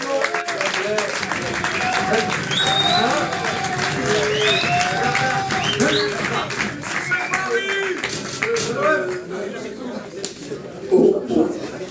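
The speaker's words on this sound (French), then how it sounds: "applaudissez-vous." Audience applause and clapping at a neighbourhood show, a dense, steady patter lasting throughout with voices talking and calling over it.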